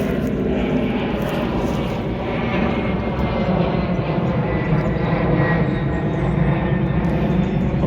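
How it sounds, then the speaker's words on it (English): A fixed-wing airplane passes overhead above an allotment garden, its engine making a steady, broad droning roar. The drone stays loud and continuous throughout without fading. "What would an allotment video be without a plane going over?"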